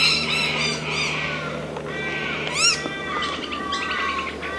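Several noisy miners, Australian birds, chatter and squawk with harsh, repeated calls and rising chirps, overlapping noisily at moderate distance up in the trees.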